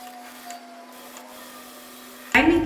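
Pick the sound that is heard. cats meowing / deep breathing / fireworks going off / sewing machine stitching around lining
sewing machine stitching around lining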